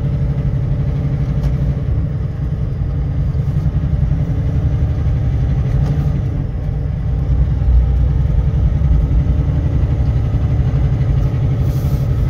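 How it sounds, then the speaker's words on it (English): An automatic pickup truck hauling grain along the road, its engine a steady low rumble with constant road noise inside the cab, loud and unbroken throughout. "So this is an automatic truck,"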